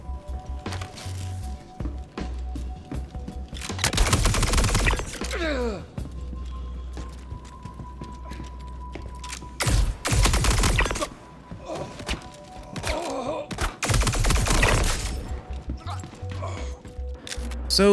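A pulse laser pistol fires in a video game in several loud, dense bursts separated by quieter gaps, with a low background hum between volleys.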